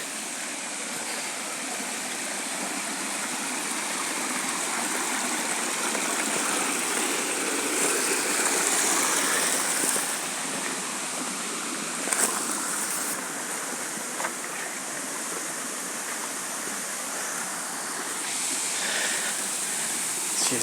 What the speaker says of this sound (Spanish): ya vamos llegando a la cascada